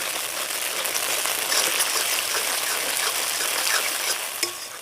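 Masala with cashews sautéing in a pan for a homemade paneer dish, a steady broadband sizzle and frying hiss with faint stirring scrapes, close and continuous throughout with no talk.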